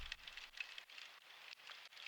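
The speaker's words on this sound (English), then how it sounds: "as well as some rain ambient sounds" Faint rain patters and hisses steadily, with soft irregular drops and no voices.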